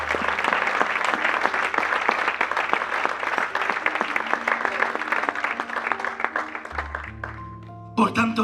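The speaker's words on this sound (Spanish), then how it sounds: "Denle ese aplauso al Rey." A Spanish-speaking church congregation claps steadily and densely throughout a worship service, a full-room applause that runs for several seconds before sustained instrument tones come in near the end.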